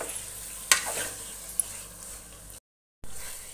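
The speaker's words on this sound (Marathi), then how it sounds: "गॅसची फ्लेम मोठीच ठेवली आहे मी, पण हे सतत असं परतवत राहायचं आहे आपल्याला" Chicken biryani masala being stirred and fried over a high gas flame, a continuous loud sizzle with scraping strokes and a couple of sharp utensil knocks, broken by a brief silent gap.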